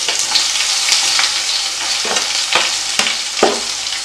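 Ginger and garlic fry with browned chana and urad dal in a pan for a pirandai thuvaiyal, giving a steady close sizzle with a few sharp stirring scrapes near the end.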